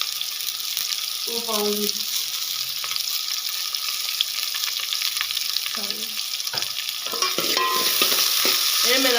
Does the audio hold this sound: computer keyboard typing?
no